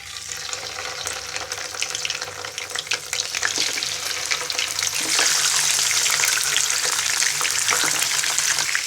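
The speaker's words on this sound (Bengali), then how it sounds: "তেলটা যখন গরম হয়ে যাবে তখন আমি এক একটা করে বাটা মাছ ভেজে নিব।" Bata fish sizzles in hot soybean oil in a frying pan: a loud, continuous crackling hiss that swells noticeably halfway through, with occasional clinks and scrapes of stirring.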